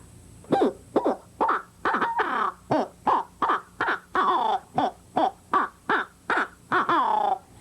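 A turkey hunter blows an owl hooter call, imitating an owl in rhythm. About sixteen short, loud, cackling hoots come in a steady, evenly spaced run with no talking.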